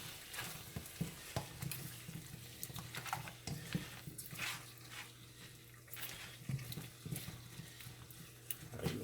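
Stewed goat meat being stirred in a pot, a soft scraping and bubbling stir with light sizzle and patter, steady at low level with irregular small clicks of the spoon throughout.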